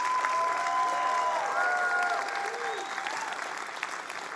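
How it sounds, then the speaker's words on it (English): Steady audience applause at a startup accelerator demo day fills the room, a dense wash of many hands clapping that holds at an even level throughout. "let's give another round of applause to these amazing founders"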